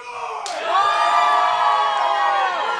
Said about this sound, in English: This crowd sounds pretty fired up behind him.